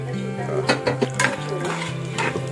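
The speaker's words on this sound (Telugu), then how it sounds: "పుట్నాల పప్పును కూడా వేసి ద్వారగా అయ్యేలా వేయించుకోవాలి" Putnala pappu (roasted gram) roasts in a pan with a quick run of scraping and clinking as a spatula stirs against the metal, loud and close, with a soft hum underneath.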